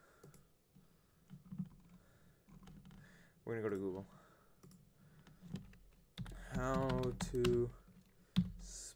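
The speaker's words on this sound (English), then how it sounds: "Do not judge my typing if I made a typing error." Soft typing on a computer keyboard during a physics tutoring session, quiet scattered key clicks running beneath a person speaking intermittently.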